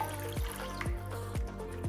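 Water poured into an eggless pumpkin bread batter of pumpkin puree, yogurt, oil, baking soda and baking powder makes close, repeated gurgling plops, about four evenly spaced, with no talk.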